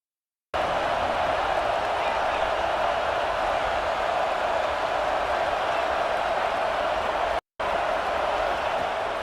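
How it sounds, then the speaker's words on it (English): Steady stadium crowd roar from a football video game, a dense wash of cheering noise that holds loud and even throughout with one brief cut near the end. "This crowd bringing the energy"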